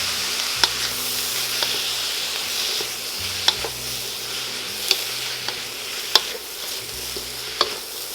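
Zucchini noodles sizzle steadily in a pan with a splash of soy sauce, a continuous bright frying hiss with scattered utensil clicks and taps from stirring, no talk.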